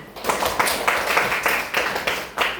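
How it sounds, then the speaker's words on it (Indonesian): A group of students in an Islamic religious education classroom claps together in rhythmic, evenly spaced bursts, about seven close, sharp beats forming a patterned group clap. "Tepuk tangan."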